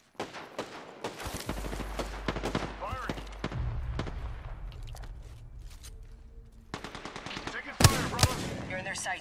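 Rapid bursts of gunfire from an Apex Legends match on PS4, loud and close, with sharp repeated shots and some quieter gaps, a voice talking over parts of it.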